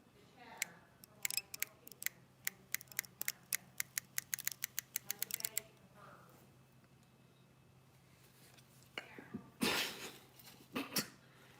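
A Lew's BB1 Pro fishing reel gives a quick run of sharp, close clicks for several seconds, then falls quiet before a few louder handling sounds. A voice is heard lightly in the background.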